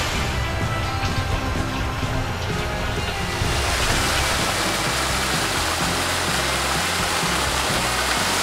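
A waterfall flows in the wild, a loud steady broadband rush of falling water that fills the whole scene and gets slightly brighter midway, with no voices.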